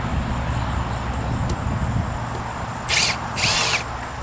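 A power drill backs a screw out of deck boards in two short, sharp whirring bursts near the end, over steady outdoor background noise.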